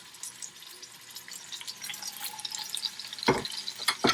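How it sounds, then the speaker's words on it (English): Veal shank pieces for osso buco sear in hot olive oil in a pan, a steady close sizzle and crackle with a few sharp louder spatters near the end. "I'm gonna sear the pieces of meat."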